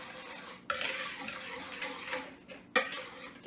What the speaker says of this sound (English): teaspoons of baking powder, 1/4 teaspoon of salt, and then you're going to whisk these things together